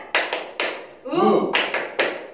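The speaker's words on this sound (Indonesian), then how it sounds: "Tepuk semangat." Youth at a children's church service do the 'tepuk semangat' cheer: crisp, close, rhythmic handclaps in short patterned groups, broken by a brief chanted vocal line before the clapping resumes.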